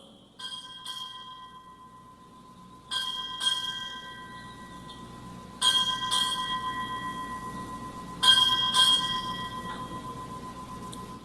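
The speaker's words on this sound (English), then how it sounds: "Time early, strike 8 bells." A ship's bell at a military change of command ceremony rings eight strokes in four spaced pairs, each clear metallic strike ringing out and decaying before the next.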